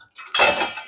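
A small metal vessel clinks and rattles sharply against other dishes while an Indian kitchen dishwasher is being loaded, a single bright clatter with a ringing tail.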